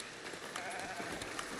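Sheep bleat in the village-building video game Foundation, a few soft, thin bleats over a steady hiss of in-game ambience at moderate volume.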